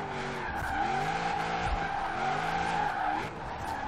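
Tire squeal and skidding from cars drifting on a snowy winter street in Forza Horizon 4, including a 1200+ HP LS7-powered limo drift build, with engines droning continuously and wavering squeals throughout, loud and close.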